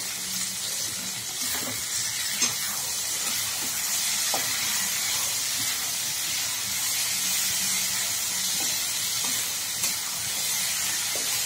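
Onions and tomatoes fry in a pan, giving a steady, broad sizzling hiss throughout with faint scattered clicks of stirring, alone and fairly close.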